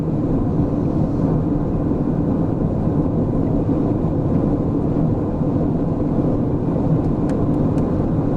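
Steady low road rumble and engine hum fill a car's cabin while driving, a constant droning noise with no speech and a couple of faint ticks near the end.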